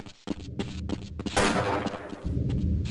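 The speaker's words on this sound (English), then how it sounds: "that one right there sounds like someone shooting actually at me" Gunfire in the Half-Life: Blue Shift video game, a run of sharp shots and thuds with a louder blast in the middle, continuing over a dense background of battle noise.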